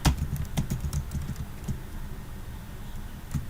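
Close computer keyboard typing as a Laravel artisan command is entered, a quick irregular run of clicks with a short lull mid-way and a final cluster of keystrokes.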